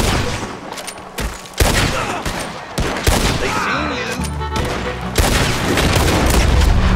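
Rapid bursts of gunfire from a Red Dead Redemption 2 outlaw shootout crack and boom in irregular volleys, loud and close, with heavy rumbling blasts between shots.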